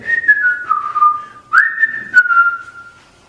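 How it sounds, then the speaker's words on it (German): Someone whistles a short, clear melodic phrase, close and loud, with sliding pitch changes and brief breaks between notes. "Ich pfeife."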